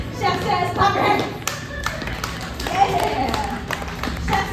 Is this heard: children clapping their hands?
yes